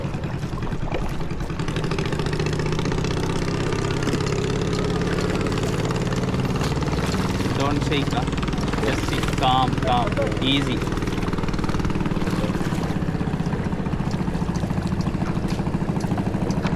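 A motorboat motor on the river trip to Pagsanjan Falls idles and churns with a steady, close, mid-low hum. The motor runs throughout the clip while someone talks over it.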